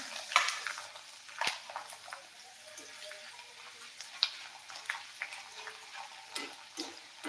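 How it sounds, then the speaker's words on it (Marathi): Maize chivda for a Diwali snack fries in a small amount of oil, giving a soft, steady sizzle with scattered light crackles and occasional clinks of a utensil. "खूप कमी तेल घातलं होतं तरी सुद्धा तुम्ही बघू शकता किती आपला हा चिवडा तळून होत आहे"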